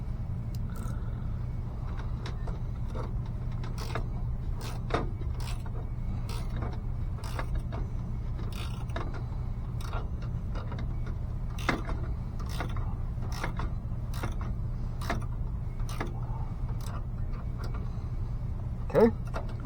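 An 8mm socket wrench ratchets bolts tight while a Distech VAV controller is mounted on a damper shaft, a run of quick, crisp clicks in an uneven rhythm over a low steady hum.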